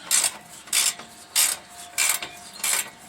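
A ratchet tightening exhaust clamps on a muffler delete for a cammed Tahoe, five evenly spaced bursts of rapid metallic clicking, close and crisp, with brief quiet gaps between strokes and no talking.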